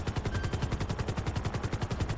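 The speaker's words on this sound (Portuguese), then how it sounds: "Ó, tá dando tiro" Rapid automatic gunfire in the video game GTA 5 roleplay, a steady fast stream of evenly spaced shots with a rotor-like pulse behind it, loud and continuous with no talk.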